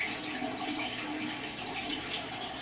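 Water gurgles and trickles in a home aquaponics system, a continuous, close, even flow of running water with a soft bubbling texture, alone without talk.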